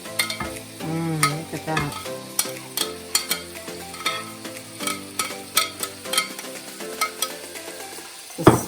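Cajun butter steak bites frying in a pan, loud and close, with a steady sizzle broken by repeated scraping and clanking as the meat is stirred; a voice speaks briefly.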